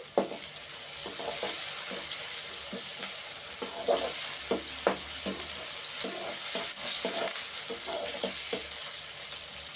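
Curry leaves fry in hot oil in a pan for an Andhra-style bottle gourd curry, giving a steady close sizzle and hiss, with occasional stirring scrapes and no talk.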